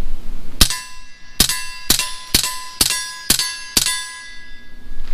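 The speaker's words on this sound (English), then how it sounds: "Ding on the target." Seven sharp metallic rings, about one every half second or so, as suppressed rifle bullets strike a steel target at a shooting range, each clang loud and bright with a short decaying ring and no audible gunshot.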